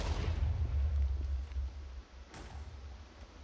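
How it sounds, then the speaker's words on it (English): Explosions in the Minecraft Murder Mystery video game, a loud low boom at the start that fades out, followed by a second, fainter burst. "Oh god, I hear explosions!"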